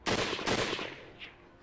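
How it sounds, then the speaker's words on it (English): Gunfire in the Hakuoki video game: a couple of sharp, loud shots in quick succession ring out and decay, followed by a fainter higher echo, with no speech. "The sound of the gunshots firing"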